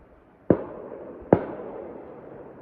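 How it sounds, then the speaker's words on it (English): Two distant shotgun blasts ring out outdoors about a second apart, each a sharp report followed by a long fading echo, with no talking. "That's a shotgun."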